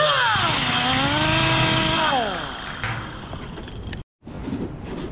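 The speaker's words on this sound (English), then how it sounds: "just grinding down all the high spots on the weld" A loud angle grinder whines steadily against metal while grinding down weld high spots on 1951 Ford COE sheet metal, its pitch sliding down as the load shifts, then it cuts out briefly before a quieter rough grinding resumes.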